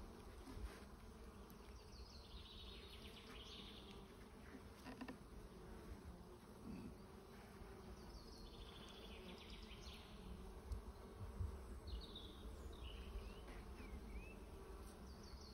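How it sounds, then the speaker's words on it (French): Honey bees buzz around an open hive during gentle handling, a constant soft drone close by with individual bees whining past now and then, no talking. "Donc c'est une abeille qui est quand même assez... qui n'est pas agressive"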